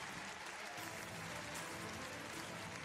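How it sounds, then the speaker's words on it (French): An arena crowd at a Longines show jumping Grand Prix, a World Cup qualifier, applauds an evening round in a steady, faint, distant wash of clapping that holds evenly throughout. "elle sera ravie d'entendre vos applaudissements, saluer cette très belle prestation"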